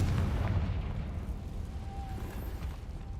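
A Confringo fire spell blast in Hogwarts Legacy, a booming burst opening loud and deep, then fading into a low rumbling roar.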